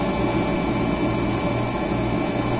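A King Instrument machine cuts a bevel in anodized aluminum with a dry vacuum running. It makes a continuous, even whir and hiss up close, with no talking.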